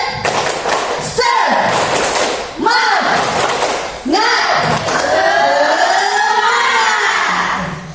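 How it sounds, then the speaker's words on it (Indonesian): Indonesian middle-school class performing a rhythmic spirit clap, loud clustered claps and thuds in patterned bursts with chanting voices, filling the room close by. "Oke, tepuk semangat"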